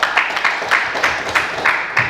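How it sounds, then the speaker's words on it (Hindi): An audience applauds for a man called Sharma ji at a talk or seminar, steady clapping with regular bursts of loudness running through the short clip, fairly close and with no voices over it. "ताली बजाओ शर्मा जी के लिए"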